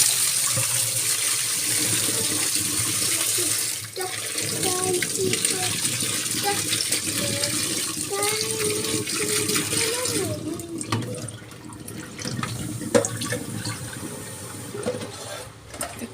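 Running tap water splashing steadily while jackfruit is washed, a close, continuous gush with shifting splashes and a brief pause, mixed with occasional speech.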